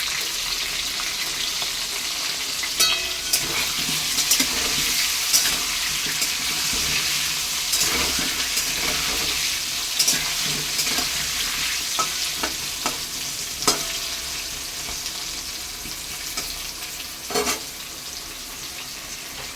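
Potato pieces fry in hot oil with turmeric in a pan, giving a loud, continuous sizzle up close. Occasional sharp clicks and scrapes of stirring break through, with no talking.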